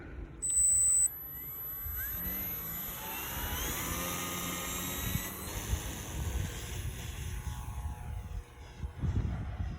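A light aircraft takes off facing south into the wind, its engine a steady droning roar that swells and holds at moderate distance, with a brief higher whine near the start.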